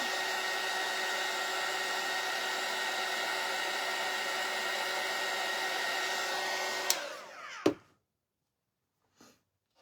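A hair dryer runs steadily at close range, drying paint on a craft shelf sitter piece, a loud continuous blowing whir that cuts off near the end with a couple of thunks, then near silence.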